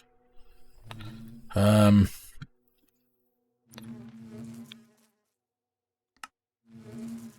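A bee buzzes in the modded Minecraft pack All the Mods 10, with a loud, close burst followed by quieter buzzy stretches that fade in and out.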